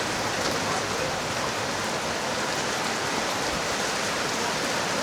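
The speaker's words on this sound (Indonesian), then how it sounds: "Hujannya tambah deras, tambah syahdu nih." Heavy rain pours down steadily outside a Javanese food stall in Serpong, a dense, even hiss of drops on surfaces that stays loud and unbroken throughout, with no voices.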